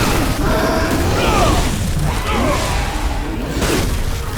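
Heavy hammer blows land on a boss in the game Remnant, dense booming impacts with whooshing swings, loud and continuous and mixed with game effects.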